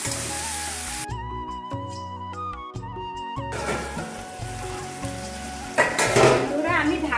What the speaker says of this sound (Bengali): লাউটাও খুব ভালো করে কষিয়ে নেব।